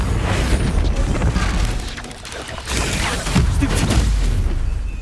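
Bombarda spell blasts in the video game Hogwarts Legacy, a dense run of booming explosions and crashing impacts that stays loud through the whole stretch, with brief dips between bursts.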